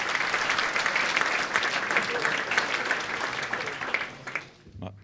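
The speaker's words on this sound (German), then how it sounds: "Ich darf damit auch um einen herzlichen Applaus für den Herrn Landesrat Daniel Fellner bitten" An audience at a ceremonial key handover after the renovation of the HTL Villach school claps in dense, sustained applause that fades out near the end.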